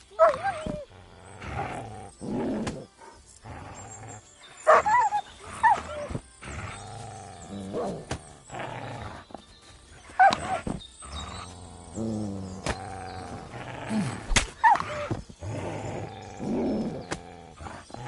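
In Kingdom Come: Deliverance II, the dog Mutt gives a series of rough barks and growly snarls, loud and close, spread in bursts across the stretch with short pauses between.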